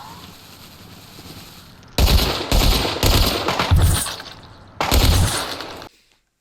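Automatic gunfire in the survival game Rust: loud, close bursts of rapid shots come in several volleys with short gaps between them, then stop abruptly into silence.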